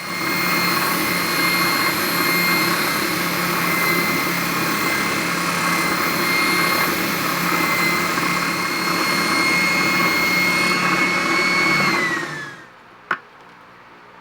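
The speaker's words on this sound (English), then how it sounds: "now I can take it to the bobbin sander and sand to the line" A bobbin sander runs steadily while sanding an epoxy resin piece to a line. The motor gives a loud, continuous whine with a grinding rasp. Near the end it spins down and stops, and a single sharp knock follows.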